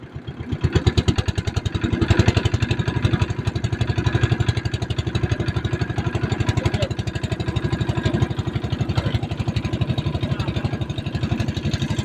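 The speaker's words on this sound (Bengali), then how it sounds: "দেখতে পাচ্ছেন সেলোর নৌকা" A shallow-engine motor boat chugs on the flooded Chalan Beel, its single-cylinder engine thumping in a steady, rapid, loud rhythm close by throughout, with no talk.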